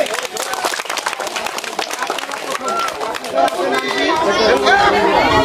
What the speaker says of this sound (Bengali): সকলের জন্য একটা করতালি হোক করে।